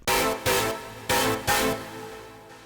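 Processed impact hits on a drum bus in a midtempo electronic track: four loud, wide, distorted booms spaced about half a second apart, each decaying quickly, with no voices.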